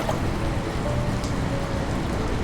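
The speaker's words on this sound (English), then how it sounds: "Raindrops splashed everywhere as thunder echoed through the forest." Rain falls in an animated forest, a dense steady patter of drops splashing on surfaces, continuous and fairly loud with no talk.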